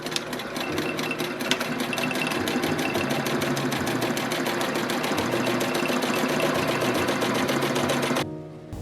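Sewing machine stitching fabric for a mask runs in a steady, rapid mechanical chatter for several seconds, close and fairly quiet, then stops abruptly near the end. No speech.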